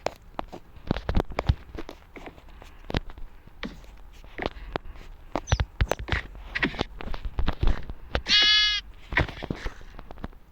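A single sheep bleats once amid scattered clicks and shuffling footsteps, fairly close, with no voices.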